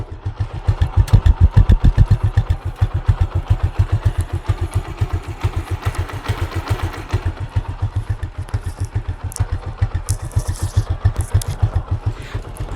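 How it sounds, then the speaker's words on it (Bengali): A Suzuki Gixxer Monotone motorcycle engine idles close by, a steady, fast, even thumping pulse with a light mechanical clatter that holds for the whole stretch, with no voices over it. "সাইকেলের ইঞ্জিনের সাউন্ডে আপনাদের শোনাবো"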